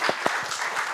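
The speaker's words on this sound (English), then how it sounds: "Round of applause." An audience breaks into brief applause, a few distinct sharp claps up front followed by a softer, scattered patter of clapping.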